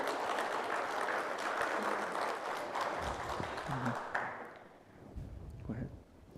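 A pageant crowd at the Miss Navajo Nation contest applauds a contestant, a broad wash of clapping that fades out partway through as voices and a few scattered sounds take over.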